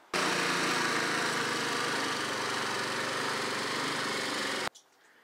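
A Honda snowblower fitted with an impeller kit runs at full power while throwing snow. Its loud, steady engine roar is close and continuous, then cuts off abruptly near the end.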